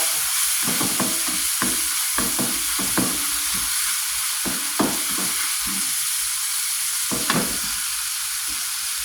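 Mushrooms frying in a pan, a loud continuous sizzle with scattered stirring scrapes and taps of a utensil, close up and with no talking.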